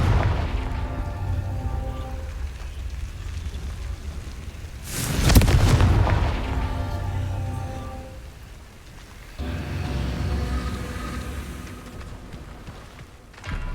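A Confringo fire spell in the Hogwarts Legacy video game goes off as one loud boom midway, rumbling over continuous roaring game ambience.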